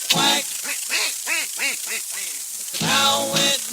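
A performer imitates a duck's quacking in a country radio song, a quick series of nasal quacks with a burst of louder sound at the start and end.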